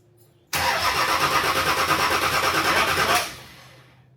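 A modified 270 hp car engine fires up and is held at full throttle for about three seconds, a loud, harsh, steady roar close to the microphone that cuts off abruptly and fades away.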